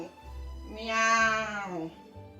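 In a puppet show, a voice imitates a cat with one drawn-out, close, clear meow.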